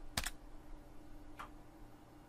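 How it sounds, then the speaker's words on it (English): A single computer keyboard key, F5, is struck once with a sharp, close click, followed about a second later by a fainter tap over a low steady room hum. "I'm going to click F5 on my keyboard and refresh the page"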